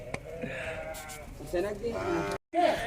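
Goats at a goat market in Al-Hasa, Saudi Arabia, bleating near and fairly loud in a busy outdoor setting, with several calls overlapping background chatter and a short break near the end.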